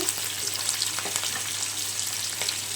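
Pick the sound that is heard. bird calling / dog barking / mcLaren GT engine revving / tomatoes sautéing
tomatoes sautéing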